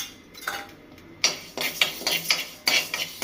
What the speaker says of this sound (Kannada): ಉದ್ದಿನಬೇಳೆ ಇದನ್ನು ಹುರಿತಾ ಇದ್ದೀನಿ ಇವಾಗ